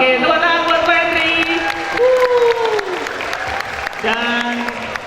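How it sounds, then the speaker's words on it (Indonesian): Audience applause at a talk show event, clapping heard under loud tonal music and a voice throughout. "Oke, tepuk tangan buat Pak Henry."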